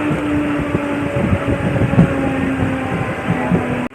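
Navi Mumbai local train pulling into Gavhan station, a loud close rumble of wheels with rhythmic rail clatter and a steady tonal hum, ending abruptly.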